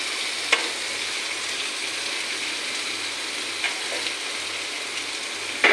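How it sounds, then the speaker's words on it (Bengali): Small puti fish fry in a pan with an even, moderate sizzle, broken by a few sharp clicks or taps, plus a faint low hum underneath. "হালকাভাবে মাছটা ভাজা করে নেব।"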